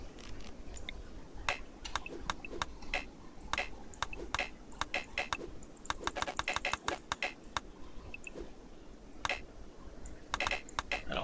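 Rapid, irregular mouse clicking while playing RimWorld, sharp close clicks repeating throughout over low background noise.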